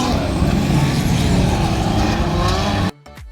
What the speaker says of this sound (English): cars scream around the circuit